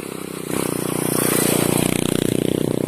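A motorcycle on a mountain trail comes close and revs past, its engine swelling over roughly two seconds and then easing off, with some clatter against a steady outdoor background.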